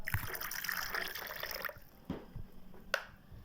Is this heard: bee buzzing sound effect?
no